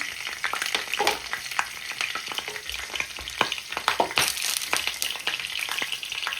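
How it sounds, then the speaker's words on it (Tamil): Fennel, cumin, mustard and fenugreek seeds sizzle and crackle in hot oil, a dense continuous fry broken by many sharp pops and spatters, close and fairly loud with no talk. "எண்ணெய் வந்து சூடாகிட்டு நான் வந்து பெருஞ்சீரகம், சின்ன சீரகம், கடுகு, வெந்தயம் 3 வந்து சேர்க்கிறேன்."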